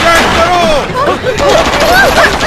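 Gunfire rattles through a Hindi-dubbed Hollywood action scene, loud bursts and rapid shots mixed under shouting voices and tense music throughout.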